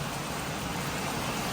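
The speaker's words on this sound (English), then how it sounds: "It's hailing right now." Hail falls outdoors during a storm in Sulphur after a tornado, a steady, dense hiss of pellets striking the ground with no pauses.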